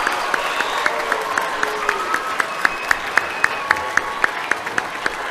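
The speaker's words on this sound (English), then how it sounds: "Let's give our veterans one last round of applause." Applause for veterans at a middle school Veterans Day celebration: a steady, full round of clapping from a large audience with crisp individual claps standing out, sustained and fairly loud throughout.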